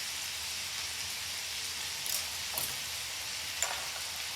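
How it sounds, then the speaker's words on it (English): Large onion chunks and sausage frying together in a pan for a rustic pasta dish, a steady close sizzle and crackle throughout, with a few faint clicks and stirs and no talk. "I also cut up my onions into large chunks, and we're now going to add that in with the sausage"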